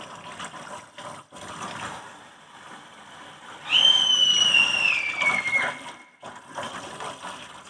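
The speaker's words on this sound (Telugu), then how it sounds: "వీటిని ఫ్రై కోసం కడుగుతానండి" Raw fish being rinsed in water before frying, with a soft trickling, splashing wash under steady background noise and a brief whistling tone midway.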